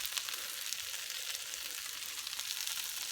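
Shrimp frying in a pan with oil and Southwest seasoning, a steady bright crackling sizzle throughout, close and even, with no talking.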